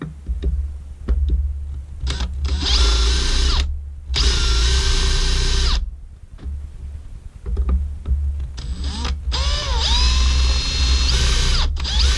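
An electric drill whines in several bursts of a few seconds each, drilling out a busbar, loud and close, with short pauses and clunks between runs.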